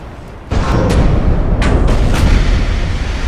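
Naval gunfire from 8-inch casemate guns in Ultimate Admiral: Dreadnoughts, a sudden loud booming blast followed by several rumbling shots and impacts, heavy and close.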